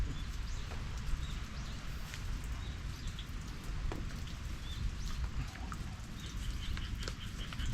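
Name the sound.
rain falling on a Shine Muscat grape farm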